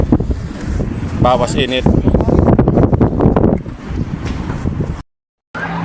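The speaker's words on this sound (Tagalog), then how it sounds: "medyo malakas ang hangin kahit paano." Strong wind buffets the microphone in loud, rumbling gusts while a person speaks briefly in Tagalog on a roof being painted, then a short dropout before the blustering resumes.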